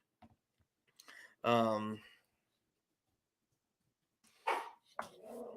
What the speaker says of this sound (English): Sorry, you hear my dog barking.